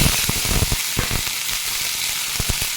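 Washed jujubes dropped into a hot pan with oil and chopped green chilli for chutney, a bright continuous sizzle with small crackling pops and spits, close and fairly loud, no talk.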